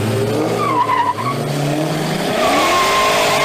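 An all-wheel-drive Eagle Talon launches from a standstill, its tires squealing and skidding loudly over a steady engine roar, the screech rising and holding close throughout.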